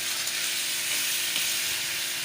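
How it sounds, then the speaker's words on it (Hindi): Chicken fries in a pan for a moong dal chicken dish, a dense, even hissing sizzle heard close and unbroken for a couple of seconds. "चिकन को फ्राई कर दूँ"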